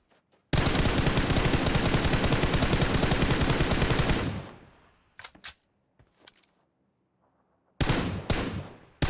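Gunfire in the battle royale game PUBG on the desert Miramar map, a long loud burst of rapid automatic fire that fades out, followed by scattered single shots and a final renewed burst.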